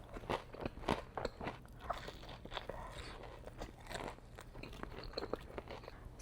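Crunchy bites and wet chewing of Wingstop chicken wings with ranch and hot honey, close and loud, a steady run of crackling crunches and mouth sounds with no talking.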